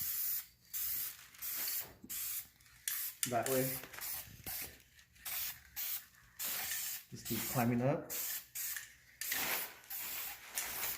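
Repeated short bursts of a spray paint can hissing close by as a car front lip is painted, with someone talking between and over the sprays.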